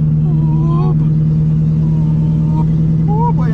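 A tuned, header-only C6 Corvette V8 drones loud and close with a low steady tone, its pitch rising briefly a few times in short revs.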